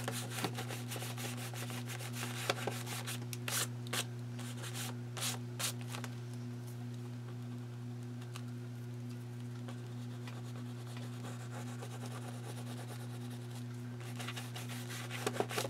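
Oil pastel rubbed through a stencil onto damp journal paper makes soft, quiet scratchy rubbing strokes in uneven bursts over a steady low electrical hum.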